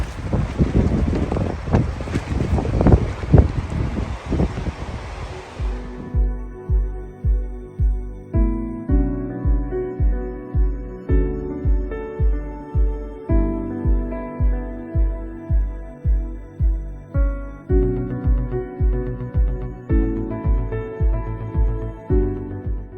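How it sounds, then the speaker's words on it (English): Strong wind on a desert trail batters the microphone with loud, gusty rumble for about six seconds, then cuts out as steady music takes over for the rest. "The morning was windy, wet and chilly."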